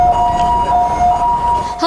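Ambulance siren wailing steadily and loudly at close range, a sustained two-tone wail carrying through on a nighttime street in Kaohsiung where an injured man was loaded aboard.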